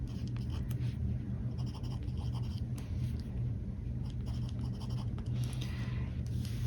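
A gold-nibbed fountain pen writing on paper, with a close, steady scratchy whisper of the nib and short strokes and pauses running throughout.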